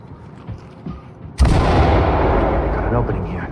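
A flashbang grenade detonates in the Ready or Not tactical shooter, giving a sudden loud bang that rings out and fades into a long noisy wash after a quiet stretch of faint movement.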